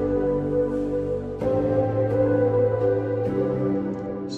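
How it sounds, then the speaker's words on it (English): Sustained sampled chords played in FL Studio with reverb added, three chord changes each with a soft attack, blending into a washy, spacious tail; loud and upfront with no talking. "So now when I play it, you can hear the reverb."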